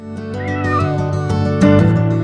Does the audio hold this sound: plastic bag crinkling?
no